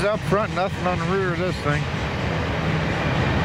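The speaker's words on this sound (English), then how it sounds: "An old grain train." An old grain train rolls along the rails with brakes hot and smoking, a steady rumbling roar running throughout while someone talks over the first couple of seconds.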